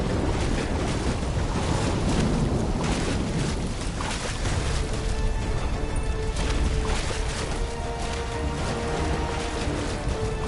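Ocean waves crash and wash continuously in the video game Call of Duty Black Ops 3, a loud, dense roar of surf mixed with gusting wind, with no speech.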